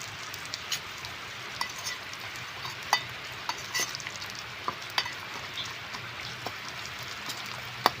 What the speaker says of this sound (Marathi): आपला कांदा तयार झाला आहे तेलामध्ये आता त्यामध्ये आपण मिरची टाकून घेऊ